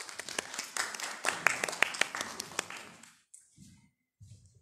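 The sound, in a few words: audience applause at a university biology symposium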